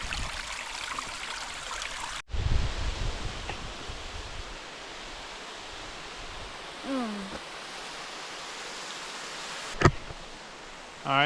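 A small mountain spring creek spills over a little fall, a steady broadband rush of flowing water that continues throughout with a few faint knocks and rustles near the recorder.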